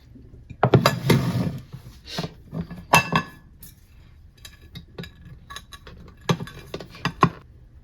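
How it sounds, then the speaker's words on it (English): Pumpkin bread is lifted from a metal baking pan onto a plate, giving a series of sharp clinks, scrapes and taps of metal against dishware, irregular and close, with no talking. "I'm just going to transfer that from the baking pan to the plate."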